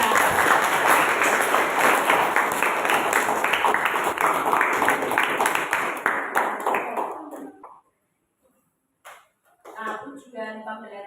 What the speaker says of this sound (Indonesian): beri tepuk tangan untuk Dinda.